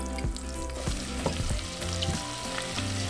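Flour is stirred into hot butter with jalapeños in a pan, making a steady close sizzle with scraping stirs and small crackles throughout.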